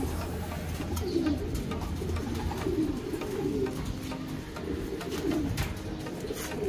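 Pet pigeons around six to seven months old cooing in a loft, soft repeated low coos recurring every second or so, fairly close, over a quiet background hum.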